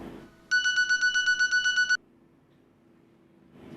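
A mobile phone ringtone plays a loud, rapid pulsing electronic melody for about a second and a half, then stops, leaving quiet room tone.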